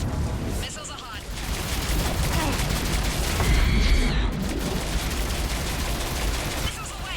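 Missile salvo launching in Mass Effect 3 during a battle at a temple, a dense, continuous barrage of rapid blasts and rumbling impacts with voices talking over the din.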